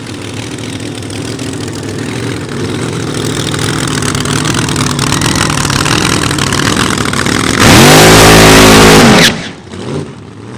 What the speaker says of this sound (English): Here comes the dragster out from under the tunnel